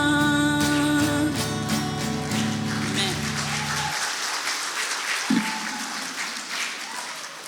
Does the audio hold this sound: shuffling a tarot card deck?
no